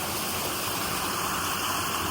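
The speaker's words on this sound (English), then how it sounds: "I am right next to the waterfall" A waterfall at Rainbow Falls, heard from right beside it on a fall hike, roars as a steady, loud broadband rush of water that fills the whole clip without a break.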